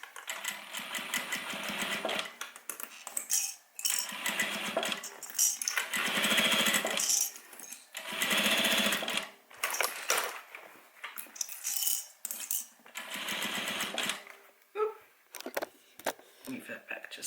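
Sewing machine stitching a seam of an airliner cabin bag around the corners, running in bursts of whirring that stop and start as the fabric is turned, heard close.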